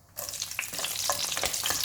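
Urad dal, cumin and green chilli crackle and sizzle as they hit hot oil for tempering, a brief burst of close frying with quick popping spatters.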